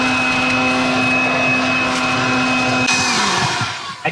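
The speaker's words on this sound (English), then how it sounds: "Try sucking up some dirty kitty litter." A DEWALT cordless leaf blower in vacuum mode sucks up dirty kitty litter, giving a loud, steady high-pitched motor whine with a rushing airflow roar that shifts and drops near the end.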